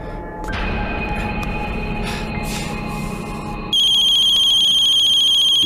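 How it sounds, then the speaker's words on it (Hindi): An electronic phone ringtone starts up partway through, loud and steady with bright repeating tones, following a stretch of noisy background hum. "ये क्या है? मेरा फोन।"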